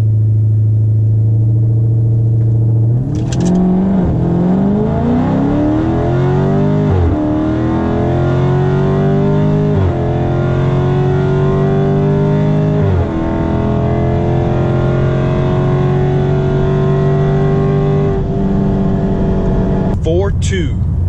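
A car in sport mode with traction control off launches hard from 0 to 60, the engine roaring loudly up through several rising rev sweeps with distinct gear shifts before easing off, a brief voice at the end.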